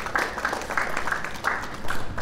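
Outdoor audience clapping for a troupe of jesters at a medieval market, a steady moderately loud patter of many hands lasting a couple of seconds.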